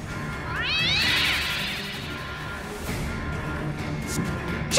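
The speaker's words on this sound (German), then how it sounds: "da kommt eine Katzenattacke!" Attacking cats in the South Park video game The Fractured But Whole, loud close meowing and yowling for a couple of seconds, followed by softer scuffling game noise.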